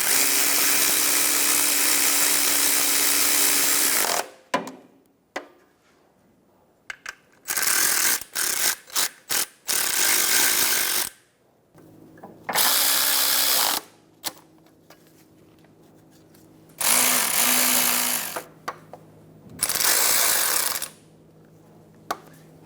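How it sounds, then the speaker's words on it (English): A hand ratchet snugs down bolts on a Chevrolet Sonic compressor, with rapid clicking bursts of several seconds each alternating with short pauses and isolated clicks, close and clear. "Snug the bolts down."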